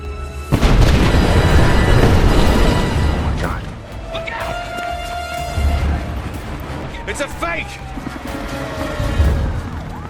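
A big cinematic explosion blows up the White House in a film, a heavy boom followed by crashing debris and rumbling aftershocks, with further blasts and crashes later on.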